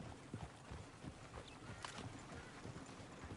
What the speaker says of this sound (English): Horses! Damn horses!